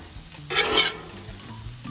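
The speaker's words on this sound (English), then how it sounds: "You can see the sizzle on those potatoes." A short burst of sizzling from potatoes frying on a Blackstone griddle, loud for a moment then easing to a softer crackle.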